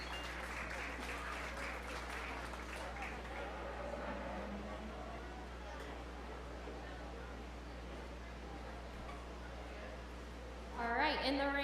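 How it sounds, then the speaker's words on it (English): Audience applause in the stands at a 4-H fair beef show: a steady, fairly distant patter of clapping with an announcer's voice over the top, continuing softly throughout. "let's give him a round of applause one more time"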